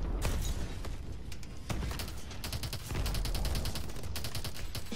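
Heavy gunfire rattles nonstop in the video game Call of Duty Advanced Warfare as tanks keep shooting, with rapid bursts and booming shots layered over a loud, dense battle din.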